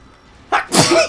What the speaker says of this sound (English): I'm trying to like not be loud when I sneeze.